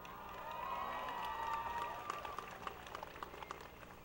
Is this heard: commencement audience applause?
yes